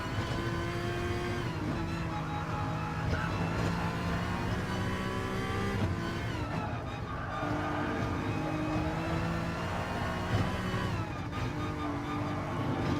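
A racing car engine in a driving simulator game howls continuously near the listener, rising and falling in pitch as the car shifts and accelerates through corners, with no break in the steady roar.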